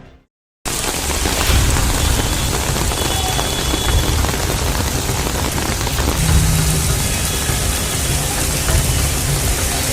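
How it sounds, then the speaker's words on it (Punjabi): Heavy rain pouring down during a Punjab downpour, a loud, dense, unbroken roar of drops striking surfaces that starts abruptly after a short quiet opening and continues with no voices. "ਪੰਜਾਬ ਦੇ ਵਿੱਚ ਲਗਾਤਾਰ ਭਾਰੀ ਬਾਰਿਸ਼ ਪੈ ਰਹੀ ਹੈ"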